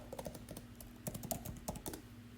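Quick, irregular clicking of keys typed on a computer keyboard during a design-tool tutorial, close and fairly quiet, with bursts of several keystrokes separated by short pauses.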